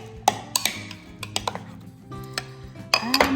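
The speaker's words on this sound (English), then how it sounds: "Stir" A utensil stirs salsa in a bowl, scattered clinks and taps of metal against the dish with quiet gaps between them, close and fairly crisp.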